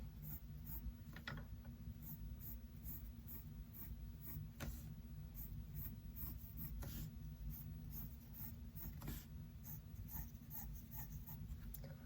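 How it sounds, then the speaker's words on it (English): A pencil drawing a straight line on paper during a figure drawing lesson gives a steady, continuous scratching that runs unbroken through the whole stretch, close and fairly quiet, with no talking. "So just draw a straight line."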